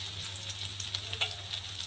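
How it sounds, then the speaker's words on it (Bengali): Chopped onion and garlic fry in hot oil for ghugni, giving a steady, soft sizzle with faint crackles and no talking. "এবার এগুলোকে ভেজে নেব"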